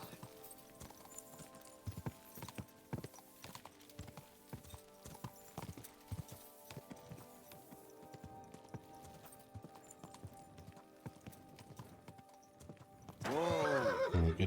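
Horse hooves clip-clop steadily through a Kingdom Come 2 game scene, a repeated rhythmic patter at moderate level, with a horse whinny and a louder burst of noise near the end.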